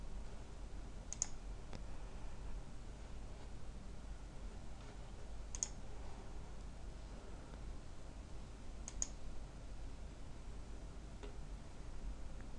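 Several sharp, faint clicks of a computer mouse, spaced a few seconds apart over a low steady hum, with no voices, while encrypting a portable drive with BitLocker.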